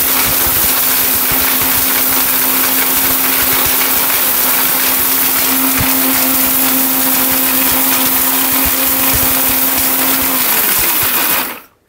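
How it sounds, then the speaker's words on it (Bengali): A mini electric blender grinds hard, stone-like turmeric root, a loud and steady whirring motor drone with a constant whine that runs without a break for about ten seconds and then stops abruptly. "এটাও কিন্তু ব্লেন্ডারে কিন্তু করে দিতে দেখানো হচ্ছে।"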